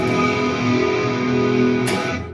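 A Squier Classic Vibe Starcaster electric guitar rings out a sustained distorted chord, loud and thick, before being cut off near the end.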